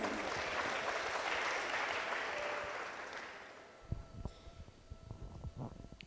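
Crowd clapping at a Christian retreat, a loud sustained wave of applause that fades out after a few seconds, followed by a few scattered individual claps and faint sounds.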